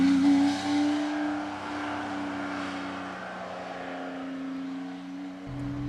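A classic Porsche 911 3.2 fitted with a modern engine cruises at moderate pace on a rainy road, its steady engine drone heard from inside alongside a hiss of wet tyres and spray, dropping briefly near the end.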